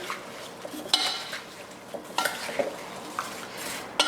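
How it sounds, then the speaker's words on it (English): Apple crisp mixture with dried cranberries stirred in a bowl, intermittent scraping and clinking of a spoon against the dish, close and moderately loud with quiet gaps between strokes. "I'm going to give this a nice stir."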